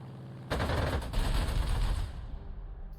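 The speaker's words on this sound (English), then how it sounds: "Artillery is now going again over here." Artillery fires in the Panzer Corps 2 wargame as a sudden heavy boom that rolls into a dense rumbling barrage lasting a couple of seconds, then fades out.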